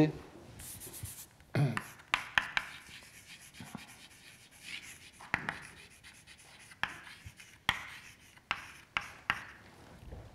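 Chalk or marker tapping and scraping on a board during a physics lecture, in short, quick, irregular strokes at close range, with a quiet voice speaking partway through.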